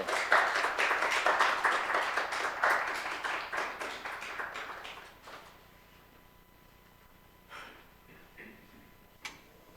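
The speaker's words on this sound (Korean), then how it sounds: "우리 목사님 모실 때 박수로 모셨으면 좋겠습니다" A church congregation claps to welcome the pastor, several seconds of brisk, lively applause that fades out around the middle, followed by near quiet with a few scattered small knocks.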